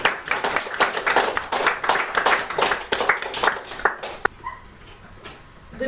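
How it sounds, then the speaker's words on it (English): An audience at a charity speech event claps steadily for several seconds, the applause loud and dense, then thins out and stops, leaving a quieter room. "Please round of applause."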